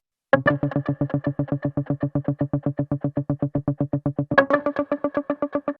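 Two percussive instruments strike together in a fast, even rhythm, a steady run of sharp, ringing hits with a brief accent near the end.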